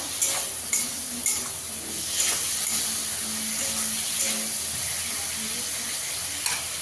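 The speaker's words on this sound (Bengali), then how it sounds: "আলুটা দিয়ে ভালো করে কষিয়ে নেব" Potatoes frying and stirred in spice paste in a pan for an aloo begun papad fish curry, a steady soft sizzle with repeated scraping stirs and light utensil knocks.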